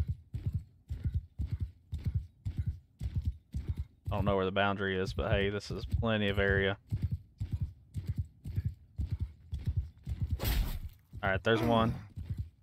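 A horse gallops in the medieval battle game Mount & Blade 2: Bannerlord, its hoofbeats thudding in a quick, regular rhythm close by, with someone talking over part of it and a whinny breaking in midway.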